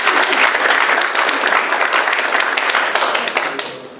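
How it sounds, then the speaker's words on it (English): A congregation gives loud, close applause in honour of Saint Teresa, dense crowd clapping that holds strong before tapering off at the very end. "So Saint Teresa deserves our applause."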